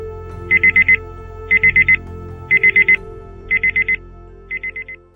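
An alarm clock goes off in five evenly spaced bursts of rapid high beeping, each a quick cluster of four pulses, loud and close over a steady low background hum.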